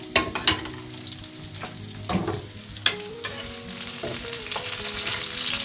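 Green peppers frying in a pan for Turkish patlıcan çığırtma, a steady sizzle with several sharp utensil scrapes and clanks near the start, no voices.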